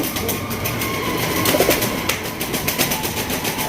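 A large male Giachuli pigeon coos faintly amid the steady background hum and rumble of a pigeon market, with no talk in the clip.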